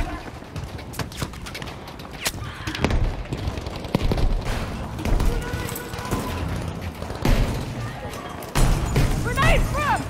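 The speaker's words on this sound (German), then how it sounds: "Ich werfe eine Bombe." A Battlefield V battle where a thrown bomb or grenade explodes amid repeated gunfire: sharp cracks and thuds scattered through a dense, busy din, with heavier booms near the end.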